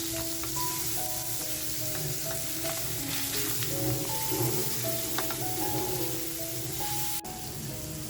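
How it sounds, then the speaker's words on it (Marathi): Kingfish (surmai) pieces frying in a pan for fish biryani, a continuous close sizzle and crackle with a faint tonal hum underneath and occasional small knocks. "तर बघा आपली मच्छी अशी छान अर्धवट फ्राय झालेली आहे"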